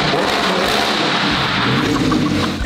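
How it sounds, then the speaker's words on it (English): Lamborghini V10 engine with race headers and straight pipe, a loud, steady broadband roar held close throughout with no talking. "To hear this V10 beautifully tuned with race headers,"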